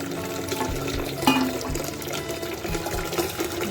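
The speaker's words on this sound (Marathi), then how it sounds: "प्यायचं पाणी भरून घेते" Tap water runs into a drinking water container through a filter at home, a steady near gurgling fill that shifts in pitch as the vessel fills, with no one talking.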